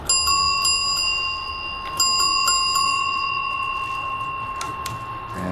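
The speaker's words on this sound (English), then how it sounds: "whenever I go through a tunnel, I like to hit my bell" A bicycle bell rung repeatedly while riding through a tunnel on a Mesa, Arizona bike path, bright metallic dings in quick bursts ringing out with echoey sustain over rolling road noise.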